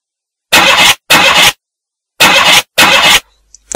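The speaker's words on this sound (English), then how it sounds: "Damn it, the engine won't start." A car's starter cranks in four loud, separate bursts, two close pairs with a pause between, the engine never catching, followed by silence and a faint click.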